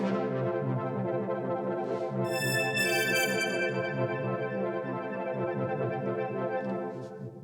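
Sustained synth patch played on a Deluge synthesizer, dense harmonic chord tones holding steady with a bright shimmering layer entering midway, continuous and fairly loud, fading slightly at the end, no talking.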